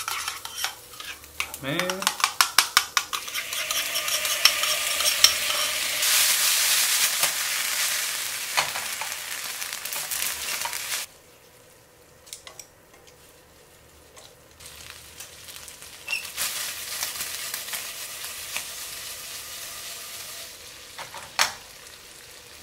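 Sausage and rice cake pieces being stirred and fried in a sauce, scraping and sizzling close up with utensil clatter against the pan; the busy frying fades partway through, returning softer later, with a brief spoken word.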